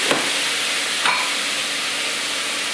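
Sliced vegetables, including zucchini, are stirred in a hot pan for a vegetable lasagne, giving a steady close sizzle with two quick scraping clicks of the utensil.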